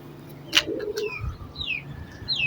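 Fakir Gul cross pigeons cooing in a breeding setup, a few soft close coos with a brief flutter and faint chirps against a quiet background, no talking.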